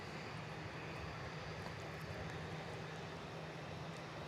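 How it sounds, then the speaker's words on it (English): An Arajet Boeing 767 airliner at Miami airport gives a steady, broadband engine roar that holds constant throughout, with no talking. "And there we have a Arajet 767."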